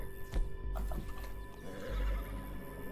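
A horse whinnies and snorts in Red Dead Redemption II, over hoof clip-clops and a low hum, fairly faint and brief, with no speech.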